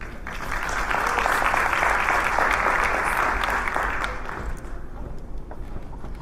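A full room of attendees at a City of Chicago small business center event applauds for banker Rhonda White, a dense, steady wash of clapping that holds strong before thinning out toward the end.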